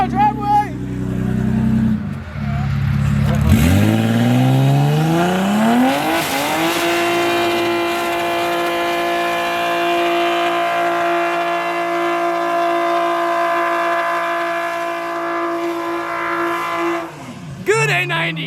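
Supercars at an Exotics & Espresso meet launch and accelerate on a rain-soaked road, engines climbing loudly through a long rising rev with tire hiss and wet spray, then fading as they pull away while a crowd talks and cheers.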